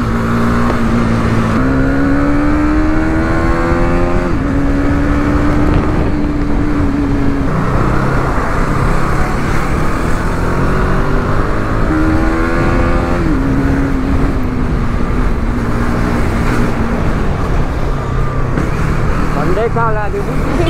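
A motorcycle ridden on an open road, its engine revving up and rising in pitch several times over steady wind and road noise, loud and close throughout.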